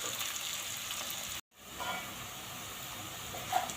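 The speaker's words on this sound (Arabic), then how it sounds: "نحط له الزيت هكذا ونخليه يتقلى، هكذا حتى ياخذ لون ذهبي" Onions frying in oil in a pan until golden and caramelized, a steady soft hiss and sizzle that breaks off for a moment and then resumes, with no talking.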